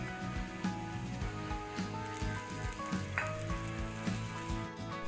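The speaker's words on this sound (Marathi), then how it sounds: "आता दोन्ही साइडने थालीपीठ हे आपण छान असं खरपूस भाजून घेणार आहोत।" Thalipeeth made from soaked poha fries in oil on a pan, giving a continuous close sizzle with occasional soft scrapes and clicks as it crisps on both sides.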